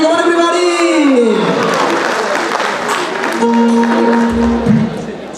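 An audience at a company's annual day celebration breaks into loud, sustained applause and crowd noise, with a sung or sustained voice tone sounding over the clapping at the start and again later.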